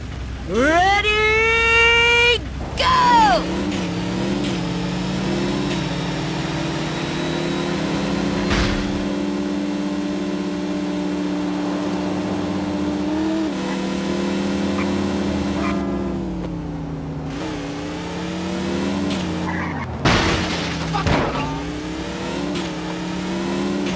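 Car engines in a street race through East Harlem in True Crime: New York City, revving hard and rising in pitch at the start, then a sustained loud drone of engines with shifting tones and brief surges.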